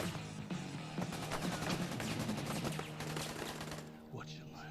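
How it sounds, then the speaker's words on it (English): A rapid fusillade of gunfire in a violent scene from the TV series The Boys, many sharp cracks rattling in quick succession, fairly loud and dense, with voices shouting beneath before the shots thin out near the end. "Stop shooting!"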